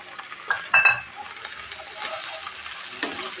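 Ginger-garlic paste frying in oil with browned chopped onion for a beef liver bhuna, a soft close sizzle with a couple of brief scrapes and clinks of the spoon early on.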